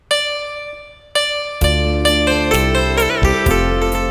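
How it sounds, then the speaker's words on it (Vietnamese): An electronic organ set to a Vietnamese zither (đàn tranh) voice plucks bright notes, first two sparse single notes, then a faster run with a bass layer, each attack twangy and then decaying. "Đây là tiếng đàn tranh."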